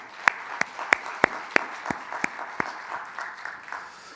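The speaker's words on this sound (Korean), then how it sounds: "우리 하나님께 감사의 박수 올려드립니다." A church congregation at a Sunday Christmas-season worship service claps in a sparse, uneven patter: a few sharp distinct claps stand out at first, then the sound thins into scattered softer clapping across a few seconds.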